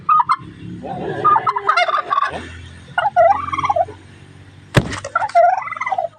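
Loud, close rooster calls, several bursts of rapid warbling crowing clucks with short pauses between them, plus one sharp knock near the end.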